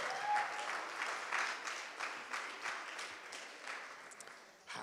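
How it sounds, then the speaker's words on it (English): Audience applause at a poetry event, a steady wash of clapping from a medium crowd that pulses gently and dips briefly before a final swell. "another round of applause to the Black Sash, everybody."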